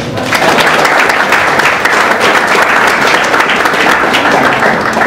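Loud, close applause from the audience at a Korea–Brazil student workshop, a thick, steady wash of many hands clapping for about five seconds with no voices over it.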